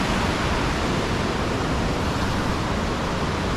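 A mountain waterfall at Dzhily-Su near Elbrus gives a steady, dense rush of falling water that continues unbroken with no voices.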